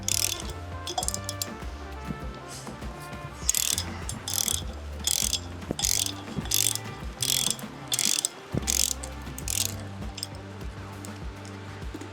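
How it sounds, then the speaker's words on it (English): Ratchet with a 13mm socket breaking loose the sprocket bolts on a Yamaha TT250 motorcycle: repeated bursts of rapid clicking, close and clear, with short pauses between strokes and no talking. "First, we want to break the bolts loose, the 13mm socket."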